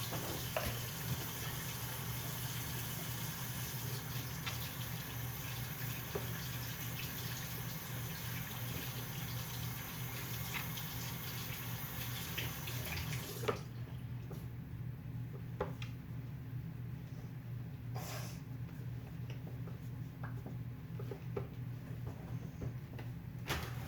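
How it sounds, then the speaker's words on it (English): A tap runs steadily into a sink while hands are washed, a constant close rush of water for most of the stretch before the flow stops, leaving a few faint clicks and knocks. "While you do that, I'm gonna wash my hands."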